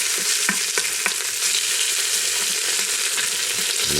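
Meat browns in a hot pan with a loud, continuous sizzle and a few scraping stirs, no voices.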